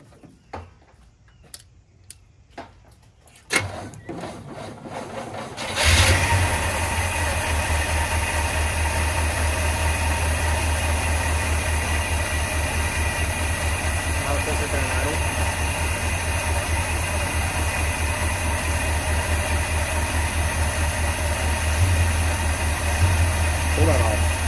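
A 1982 car engine with about 40k original miles, previously damaged by fire, is cranked over, with a few sharp clicks at first, then catches and settles into a loud, steady, rhythmic idle close to the microphone.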